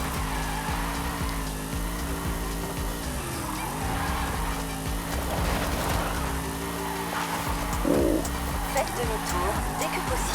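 A 1996 Nissan 240SX Formula Drift car, number 51, drifts in the video game Forza Horizon with a steady engine roar and tire squeal. A voice talks over the continuous loud noise.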